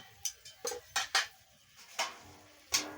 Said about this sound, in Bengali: এবার আমি পরিমাণ মতন মিষ্টিটা দিয়ে দিচ্ছি দিয়ে ভালো করে নাড়িয়ে নিচ্ছি